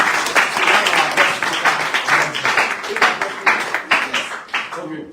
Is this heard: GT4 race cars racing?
no